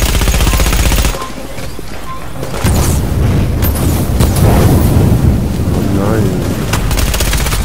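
Two grenade blasts going off almost together in The Division, a loud continuous roar of booming explosions and gunfire layered with battle noise, heavy and close throughout.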